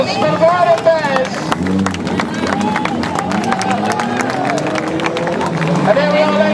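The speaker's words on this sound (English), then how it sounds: "A round of applause for the Brighton Bears" At an outdoor charity parade, a crowd of onlookers claps and cheers as the Brighton Bears pass, a busy outdoor mix of scattered clapping, chatter and an announcer's voice over the top.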